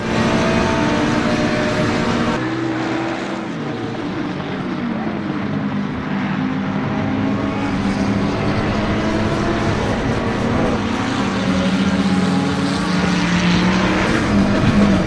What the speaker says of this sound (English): What do you think about this Ferrari driving?